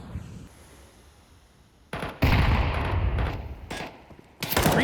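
Rifle gunfire in a Counter-Strike match on the Train map: after a quiet start, loud bursts of automatic fire break out and continue in clusters, with a sharp final volley near the end.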